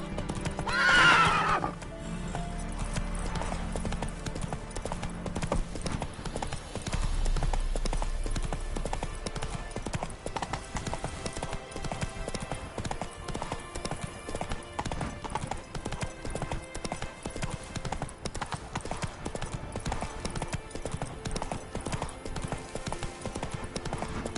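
Horse hooves clip-clopping in the video game The Witcher 3: The Wild Hunt, a steady, brisk trot that carries on throughout, with a whinny near the start and a man's brief speech mixed in.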